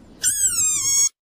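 A desert rain frog lets out a single loud, close squeak, a shrill, slightly wavering tone lasting about a second before cutting off abruptly into silence.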